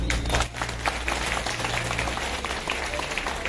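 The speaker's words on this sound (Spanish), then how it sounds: "feliz aplausos" Applause from guests at a baptism and first haircut party in Lima, Peru, a steady dense patter of clapping filling the room for a few seconds with no speech over it.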